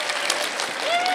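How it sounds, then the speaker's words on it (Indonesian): Members of a religious gathering briefly clap for themselves, a short burst of crowd applause with a voice rising over it. "Tepuk tangan buat diri sendiri"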